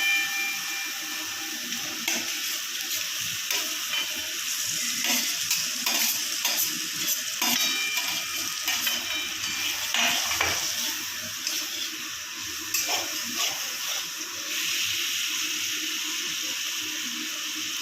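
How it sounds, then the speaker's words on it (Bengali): Fried taro and potatoes are stirred through a cooked spice paste in oil, giving a close hissing sizzle with repeated wet scraping and clattering stir strokes, with no talk. "এখন আমি ভাজা কচু, শুকনো কচু আর আলু, ভাজা করা আলু একসঙ্গে দিয়ে দেবো, দিয়ে একটুখানি কষাবো।"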